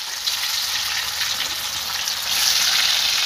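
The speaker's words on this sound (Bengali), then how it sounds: "আগে আলুটা ভাজতে চল, আলু ভাজতে দিতেছে" Potatoes fry in a pan with a steady, close hiss of sizzling oil that swells slightly louder near the end, with no voices over it.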